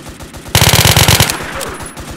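Rapid automatic gunfire in a shooter video game, a loud, close burst of rounds that trails off into a few slower shots.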